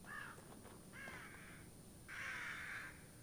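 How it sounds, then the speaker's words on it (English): Crows caw in The Evil Within video game, three harsh calls spaced apart, the last longest and loudest, over a low ambient hum with no talk. "Oh shit, crows."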